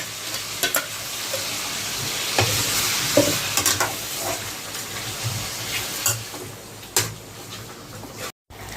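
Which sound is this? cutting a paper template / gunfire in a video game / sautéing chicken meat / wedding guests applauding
sautéing chicken meat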